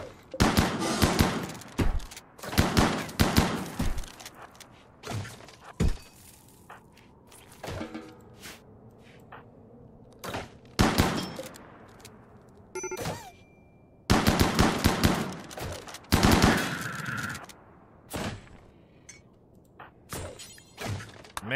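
Gunfire in the video game Rimworld rings out in repeated bursts of sharp shots and rapid automatic fire, loud and close, separated by quieter gaps with some thuds.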